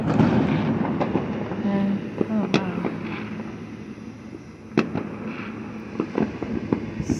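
Fourth of July fireworks going off near a park: sharp bangs and crackling pops, two especially loud, over a steady rumble, with people talking throughout.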